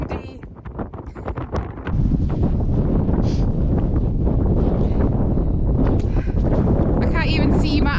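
Strong wind buffets the microphone on a hilltop on the Isle of Benbecula in the Hebrides, a constant loud roar that swells after the first couple of seconds, with a person talking over it.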